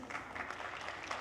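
Short, soft burst of audience applause at a convention opening ceremony, a steady patter of clapping hands with no voices over it.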